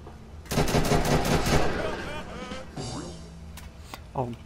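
A rapid-firing automatic weapon in Fallout 4 rattles off a dense, loud burst lasting about two seconds, followed by a few scattered shots and a voice.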